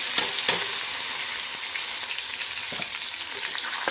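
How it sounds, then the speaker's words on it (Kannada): Onion and tomato sizzle in hot oil in a pan, a steady crackling hiss with occasional stirring scrapes, close and continuous with no talking. "ಇವಾಗ ನಾನು ಉಳ್ಳಾಗಡ್ಡಿ ಟಮಾಟಿ ಹಾಕೋತೀನಿ ರೀ"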